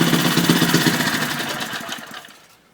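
A freshly rebuilt Briggs and Stratton 2HP small engine runs loud and close with a fast putter, then winds down and dies away into quiet as it is shut off.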